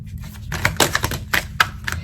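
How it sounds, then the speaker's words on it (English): Tarot cards shuffled by hand, a run of crisp papery riffles and taps in quick irregular bursts, close and fairly loud, over a low steady hum. "I'm going to shuffle and see what falls out."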